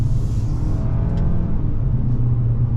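A 2023 Nissan Altima SL AWD sports sedan accelerates hard out of a curve, its steady engine drone and low road rumble loud and continuous throughout, with no talk.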